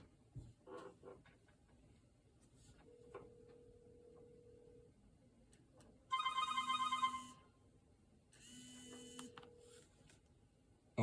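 Incoming call ringing on a Vortex V3 Flip phone, a copy of the Motorola RAZR V3, two loud electronic ring bursts separated by a pause over faint room hum.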